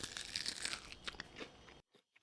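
A bite into crispy golden mashed potato fries gives a close, loud crunch followed by a few quieter chewing crunches.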